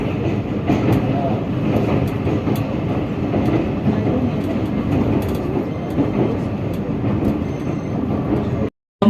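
A passenger train on the Rawalpindi to Karachi line rolls steadily along the rails near Brig Road station, a dense continuous rumble with faint clickety-clack, holding constant before cutting out abruptly near the end.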